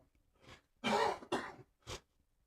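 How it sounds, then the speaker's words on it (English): Someone nearby clears their throat in a few short, rough bursts, each separated by a brief pause. "You'll have to bear with me on my breaks here to clear my throat and stuff."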